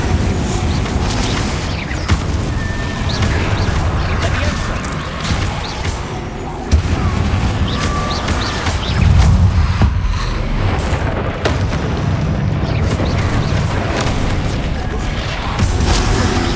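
Spell casting and explosions in the Hogwarts Legacy video game, with dense booms, blasts and rapid magical impacts layered continuously, loud and busy throughout, as a player shouts spell names over the action.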